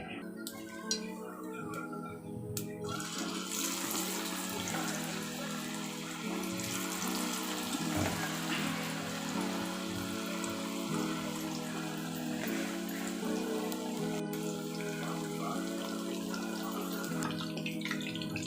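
Mushroom gravy masala goes into hot oil and fries, giving a steady, close crackling sizzle with watery hiss and occasional spatters throughout, with no one speaking.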